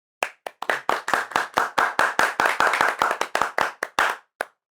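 A single person claps hands in a quick, steady run of about twenty sharp, close slaps, loud and alone, ending with a short pause and one last clap.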